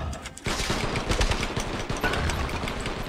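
Rapid bursts of gunfire in the Attack of the Movies 3D shooting game, dense overlapping shots and machine-gun rattles filling the whole stretch at steady loudness, with no talk over it.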